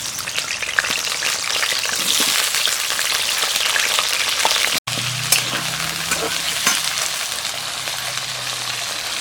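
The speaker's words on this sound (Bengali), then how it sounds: "এবারে আলুগুলো ভেজে নেব।" Potatoes fry in white oil in a wok, giving a loud, constant crackling sizzle with occasional stirring scrapes; a brief dropout midway precedes a lower-pitched bubbling hiss.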